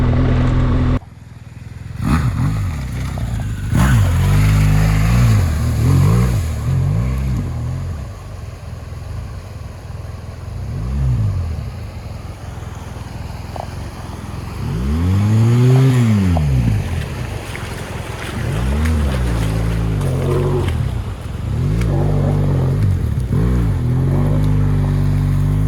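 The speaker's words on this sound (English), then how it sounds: "I heard the sound of a motorbike returning." A motorbike engine rising and falling through several passes, with revving sweeps that grow louder as it approaches, set in a remote spot during a rider-down helicopter rescue, heard continuously with no talk.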